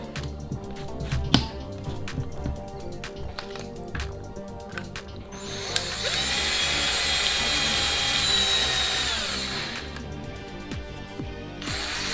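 Power drill with a slightly larger bit boring out the restrictor of a Nerf Delta Trooper blaster, first faint clicks and handling, then a steady whirring drill run for several seconds before stopping.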